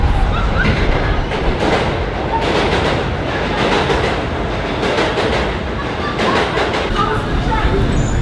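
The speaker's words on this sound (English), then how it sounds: "This is a Queens-bound F local train." A Queens-bound F local train on the New York subway runs with a loud, steady rumble and rhythmic clatter of wheels, while people talk over the noise inside the car.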